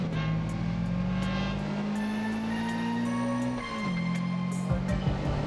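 Toyota AE86 engine from the DDM drift game, holding a steady revving drone that climbs gradually, then drops sharply as the throttle lifts before settling again, loud and alone.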